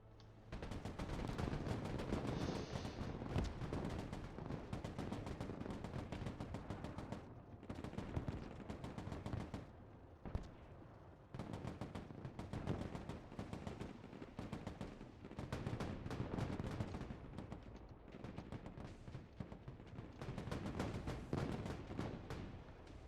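Mortar and gunfire in Broken Arrow, a modern military strategy game, with dense volleys of sharp cracks and thumps rolling almost nonstop, fairly faint and distant, broken by a few short gaps.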